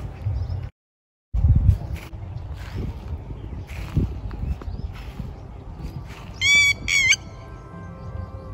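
Geese honk in a short burst of harsh calls near the end, over a busy outdoor background with low rumbling on a rustic farm in Gujarat, India.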